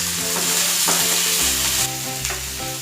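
Sliced onions and curry leaves sautéing in oil with spluttered mustard and fennel seeds for kothu chapati make a loud, dense, continuous hiss close by, with a tonal melody running underneath.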